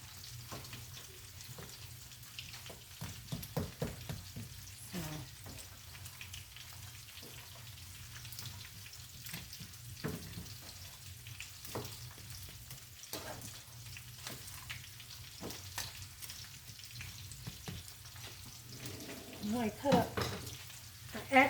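A breakfast casserole of potatoes and sausage being stirred in a pan, with a low, steady sizzle and scattered soft scrapes and clicks, faint and unhurried, with no talking.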